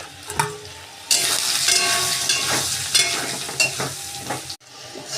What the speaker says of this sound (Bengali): আলুগুলো তেলে দিয়ে আমি ভেজে নিচ্ছি।